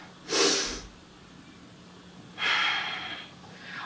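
Two breaths during a gentle yoga exercise, each a soft airy rush, the first short and the second longer and steadier, close by with a quiet pause between them.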